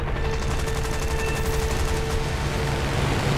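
Dense rapid machine-gun fire in the War Thunder air combat game, with a Typhoon Mk 1a under attack from an enemy gunner, a continuous loud rattling stream over steady engine roar.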